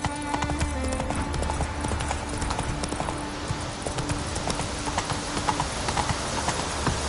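Horse hooves clip-clopping at a steady trot in The Witcher 3 on PS5, continuous and fairly close over a low ambient hum, with a faint whinny.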